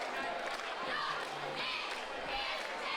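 Steady crowd noise from the stands at a Snohomish versus Glacier Peak high school football game, a continuous wash of chatter with a few brief thuds and faint shouts mixed in.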